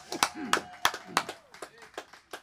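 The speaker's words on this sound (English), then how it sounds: "Let's give him a round of applause." A small live audience at a kitchen-table music show gives a short, sparse round of clapping, individual claps distinct and close, with some voices mixed in.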